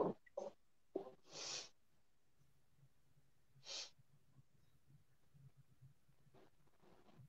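Several short, breathy nasal sniffs, a quick cluster near the start and another a bit later, faint and close with quiet pauses between.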